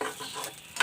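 Crushed chili frying in a little oil for a tomato chutney makes a brief, close hiss and sizzle with a short stirring scrape near the end, no speech.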